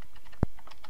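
A single sharp keystroke on a new computer keyboard, close and crisp, set against a faint background of quieter tapping.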